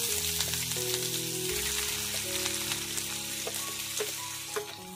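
Garlic and onion frying in hot oil in a pan, a strong, dense, close sizzle that crackles continuously, with some faint tonal sounds mixed in behind it and no talking.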